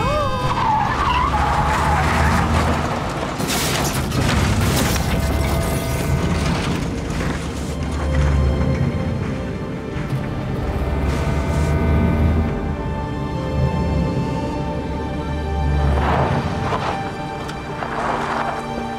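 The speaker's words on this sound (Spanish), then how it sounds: "Ese coche se salió de la carretera." A car skids and leaves the road in a dramatic film scene, with loud, sustained tyre and engine noise across the whole stretch, swelling in bursts and heavy low rumble, with no clear talk over it.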